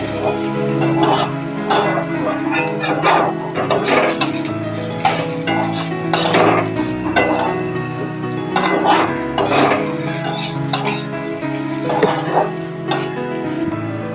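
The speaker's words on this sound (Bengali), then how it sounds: "ডালিয়াটার সঙ্গে একটু ভাজা ভাজা মতন করে নেবো" Broken wheat (dalia) stir-fried in a pan, heard as a busy run of close metallic scrapes, clinks and knocks of a spoon against the pan, with a voice talking through it.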